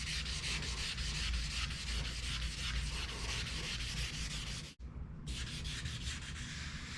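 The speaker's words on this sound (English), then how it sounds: "I'm just going to sand that down till it's smooth." Steady, continuous sanding by hand on peeled clear coat of a car's paint, a close rasping rub that runs without pause apart from one brief break near the end.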